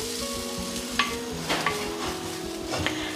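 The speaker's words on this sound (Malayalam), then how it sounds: "ഞാനിതിലേക്ക് ഒരു കപ്പോളം ചിരകിയ തേങ്ങ എടുത്തിട്ടുണ്ട്" Grated coconut, about a cup, sizzling as it is stirred in a hot pan for a Kerala-style fish curry, a steady close frying hiss with a few sharp scrape accents and no talk.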